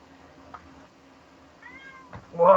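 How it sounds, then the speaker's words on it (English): A cat gives a couple of short meows, faint at first and then louder and closer at the end, over a quiet indoor background. "Oh my god, cat."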